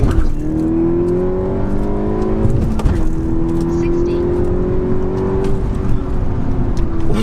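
An Audi S1 accelerates hard with traction control off on a warm day, timed from 30 to 70 and over an eighth of a mile. A loud, steady engine drone rises gradually in pitch and holds for about seven seconds, as heard from inside the car.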